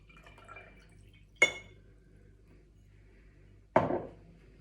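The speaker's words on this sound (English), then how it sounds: "you're going to take your water and you're going to pour it in" Water is poured onto honey in a glass for a layered liquid demonstration, heard as two separate short splashy pours a couple of seconds apart against a quiet background.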